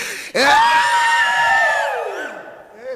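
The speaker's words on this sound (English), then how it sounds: "You want to scream all together?" A crowd screams together in one sustained burst at an interview or party gathering, the loud yelling swelling suddenly after a brief pause and then trailing off over a couple of seconds.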